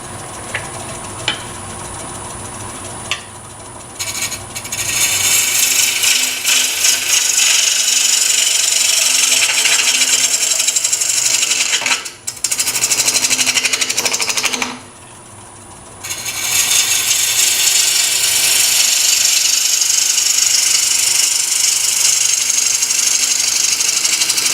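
A bowl gouge cuts the outside of a wooden bowl turning on a lathe, giving a loud, steady hiss and scrape. The cutting pauses briefly twice, and the motor hums underneath.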